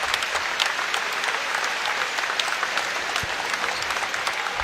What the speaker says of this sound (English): Marquise Bolden getting a nice hand from the crowd here at North Carolina